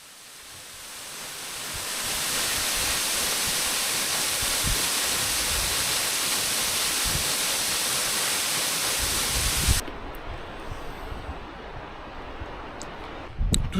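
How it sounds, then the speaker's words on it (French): Waterfalls roaring across the valley in a forested national park: a broad, steady rushing wash of falling water that swells in over the first two seconds and holds constant, then drops to a softer background rush near the end. "Il y a des cascades en face, là-bas, c'est superbe"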